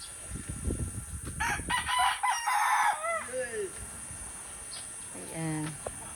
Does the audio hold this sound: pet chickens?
yes